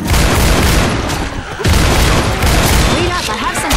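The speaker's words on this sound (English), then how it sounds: "Shotgun." Shotgun blasts ring out in Left 4 Dead 2 during a co-op campaign on expert difficulty, loud, dense booming reports piling over one another through most of the stretch, with a brief dip midway and game noise throughout.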